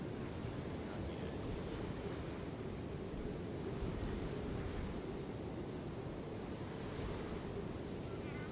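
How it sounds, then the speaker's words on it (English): Waves at a familiar port in the video game Genshin Impact, a steady, dense wash of surf and wind that rolls on evenly throughout with no talk. "The sound of the waves in this familiar port."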